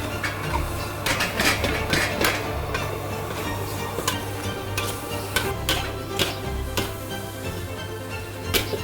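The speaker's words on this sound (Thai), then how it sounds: "ผัดกระทะใหญ่นี่ยากกว่าระทะเล็ก" Continuous sizzling of pork stir-frying in a large wok, with repeated metallic scraping and clanks of a spatula stirring throughout, close and fairly loud.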